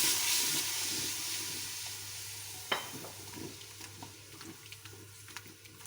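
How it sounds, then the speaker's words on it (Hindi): Water splashes into a hot pan of sizzling Indian spice paste for kadhi pakora, with a sharp hiss followed by steady crackling and faint stirring clicks. "अब मैं इसमें थोड़ा सा पानी डाल रही हूँ ताकि मसाला हमारा जले ना।"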